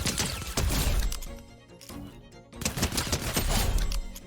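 Loud full-auto SMG fire in Fortnite rattles out in two long sustained bursts with a short gap between them, close and dominant, without any voices.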